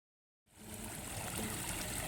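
Garden pond waterfall that starts abruptly after a moment of silence, then a steady, fairly close rush of falling, splashing water with no voices.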